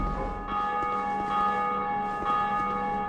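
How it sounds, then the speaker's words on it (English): A church bell rings in the video game Dark Souls 2: Scholar of the First Sin, steady tonal strikes recurring about every second over a dense, sustained in-game ambience, with no talk. "You say something about that bell."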